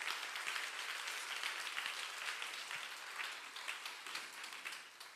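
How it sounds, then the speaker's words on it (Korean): Church congregation applauding together during a Sunday sermon at Incheon Sanseong Church, a steady, dense wash of many hands clapping at moderate distance, sustained throughout without speech. "우리 박수로 하나님께 영광을 드리겠습니다"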